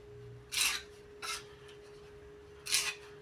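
A spatula spreads wall putty (massa corrida) across a wall in three separate scraping, rasping strokes, each close and short, with a quiet pause between them.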